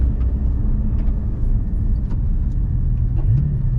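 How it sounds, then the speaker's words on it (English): Inside a 2021 Porsche Cayman GT4 on a road drive, the engine drones low and steady with a brief rising rev near the end, like an automatic throttle blip on a gearchange, and no one speaks over it. "Oh, you can hear the auto blip there."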